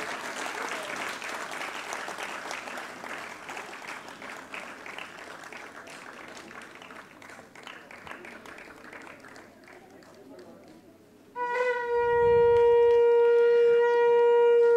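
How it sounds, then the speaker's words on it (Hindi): An audience applauds at a formal ceremony between Sikkim and Uttar Pradesh, sustained clapping that thins out, then a loud blown conch shell sounds with a strong sustained tone. "आप सभी की जोरदार तालियां अपेक्षित हैं इस शुभ मौके के लिए"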